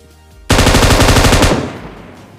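An M249 machine gun fires one continuous, loud, close burst of about a second in a battle royale video game, its rapid shots ringing out and decaying into a short tail.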